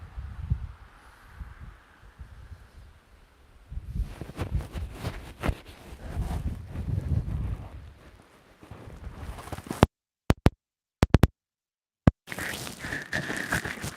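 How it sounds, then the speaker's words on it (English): Gusty wind buffets an outdoor microphone, rumbling low and loud in long irregular surges, broken by a few abrupt dropouts near the end before the blustering resumes. "You could probably hear the wind,"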